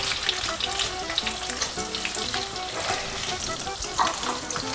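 Calabresa sausage frying together with vegetables in a pan, a steady loud sizzle with crackling spatters and light stirring throughout, no talking.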